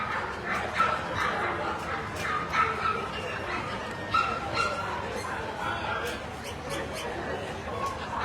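Dogs at a toy group dog show yip and bark in quick sharp bursts with some whimpering, mid-distance over a murmuring crowd and an announcer talking.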